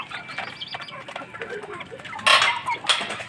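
Rhode Island chickens cluck and squawk nearby, with several irregular calls and a sharper, louder outburst toward the end over soft farmyard background.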